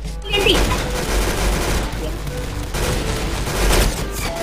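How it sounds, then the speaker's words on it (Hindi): Rapid gunfire bursts from a gun in the video game Arsenal, loud and dense fusillade-like firing across the moment, with speech mixed in. "अब मेरे पास ऐसी गन है मेरे सामने जो आएगा वो मर के जाएगा"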